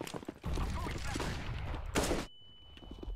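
Dense gunfire from a multiplayer shooting game, a rapid burst of shots with a louder blast near the end and a ringing tone afterward, with a voice talking over it.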